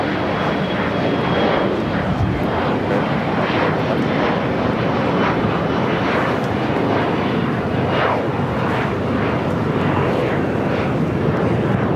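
Steady, loud, broadband roar of jet aircraft idling and rolling on a taxiway at LAX, with an Airbus A380 among several large airliners, continuous and close throughout without any voices.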